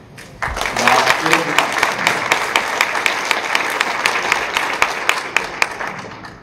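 A conference audience breaks into steady applause for a keynote speaker, many hands clapping at once, with a brief voice heard near the start before the clapping swells.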